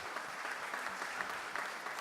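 Congregation at a church service clapping steadily to honour couples celebrating wedding anniversaries, a broad, even wash of many hands that holds at a moderate level for the full stretch.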